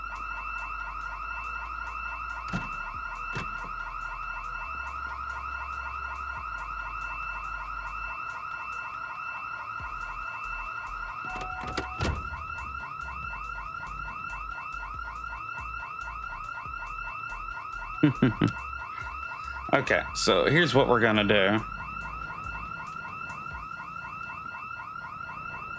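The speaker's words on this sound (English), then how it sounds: "We're gonna get a little bit away from that alarm sound because that's annoying" A car alarm in the video game Project Zomboid blares continuously with a steady rising-and-falling electronic wail. Someone speaks briefly over it, and a few thumps and clatters of in-game actions sound near the end.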